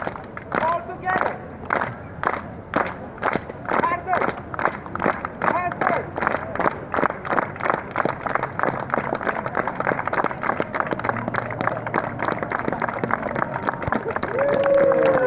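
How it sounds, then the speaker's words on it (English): A street-performance crowd on Wenceslas Square in Prague claps along in unison, a steady rhythmic beat of many hands that carries on for the whole stretch beneath a performer's rope-jumping act, with some voices mixed in. "I need everybody to clap."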